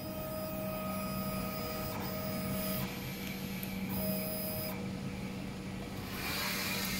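A DTF printer runs a nozzle check print, a steady close mechanical whir and hum with tonal motor whines that shift as the print head moves back and forth.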